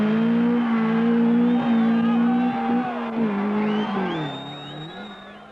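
An Opel Ascona rally car drives a mountain stage of the 1972 Monte Carlo Rally. The engine holds a loud, steady drone, then the pitch rises and falls through gear changes as it fades into the distance.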